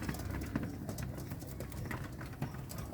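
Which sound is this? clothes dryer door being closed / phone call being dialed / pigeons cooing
pigeons cooing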